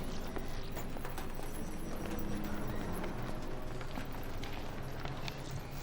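Clip-clop of video-game horse hooves over a dense, steady wash of background noise, with occasional whinny-like tones; no talking.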